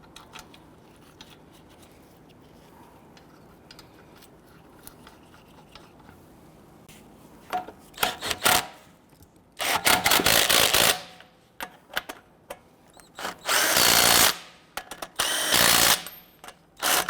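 Lug nuts are snugged down on a 2007-2014 Cadillac Escalade front wheel with a power tool, quiet rattling at first, then several loud close whirring bursts of a few seconds each.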